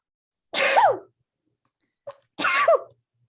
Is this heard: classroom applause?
no